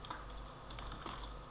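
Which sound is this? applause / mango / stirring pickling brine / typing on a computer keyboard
typing on a computer keyboard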